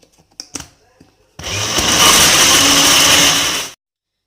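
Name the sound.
blender blending energy drink with ice cubes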